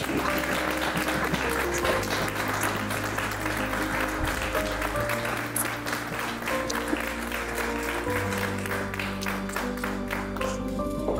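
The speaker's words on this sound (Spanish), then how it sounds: "Démosle un fuerte aplauso de bienvenida" Welcoming applause from an audience at an interreligious dialogue event in Madrid, steady crowd clapping that lasts throughout, with sustained music playing underneath.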